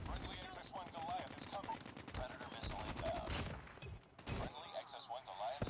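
Rapid automatic gunfire rattles in dense, overlapping bursts across the Nuketown map in a Call of Duty team deathmatch, loud and close with short gaps and scattered impacts between volleys.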